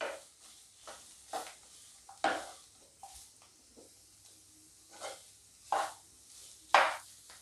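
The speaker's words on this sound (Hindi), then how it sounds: "इसे हमें 4 से 5 मिनट तक भून लेना है।" Samosa filling roasting and being stirred in a pan, with soft sizzling and hiss broken by repeated scraping stirs that come in uneven bursts, some louder, no talking.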